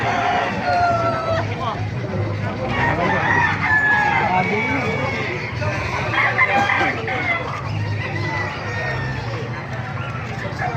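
Roosters crow amid a busy outdoor background of clucking poultry and overlapping human chatter at a poultry market in Calumpit, Bulacan.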